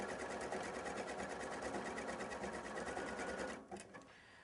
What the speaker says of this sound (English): You will want to sew at a moderate speed and keep that speed consistent.